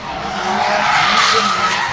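A drift car slides through a run at the British Drift Championships round at Buxton, its tires squealing and skidding in a loud, continuous hiss that swells and holds.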